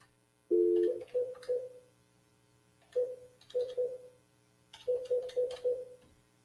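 Telephone dialing tones on a phone line: three separate groups of short, clear electronic beeps in quick succession, with gaps of silence between groups.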